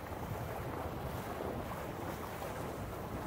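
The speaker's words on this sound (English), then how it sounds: "Here comes a little bit of a gust." A wind gust roars steadily across the microphone while windsurfing on open water, a dense, continuous rushing noise mixed with the wash of waves, loud and close with no voices.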